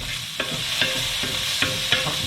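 Tomato crab linguine sauce fries in a pan with a steady sizzle, while a spoon scrapes through it in four or five distinct stirring strokes, close and fairly loud.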